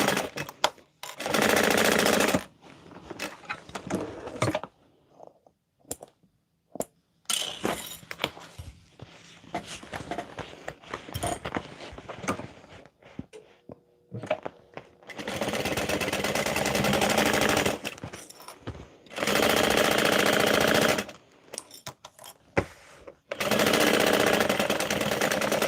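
A sewing machine basting fabric runs in short, loud bursts of rapid stitching, separated by quiet pauses and small handling noises nearby.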